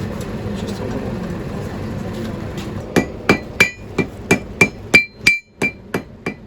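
Hammer blows forging a metal leaf on an anvil, silent at first, then about a dozen sharp, ringing strikes in a steady rhythm from close by, with no voices.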